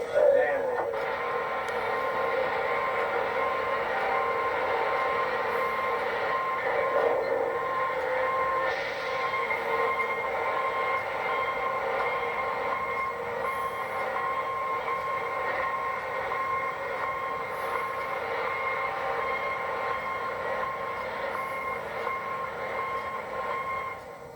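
Florida East Coast Railroad trains and switchers move through a rail yard in Jacksonville, a steady, moderately loud rumble and droning hum with tonal mechanical whine held throughout, faint clanks appearing now and then.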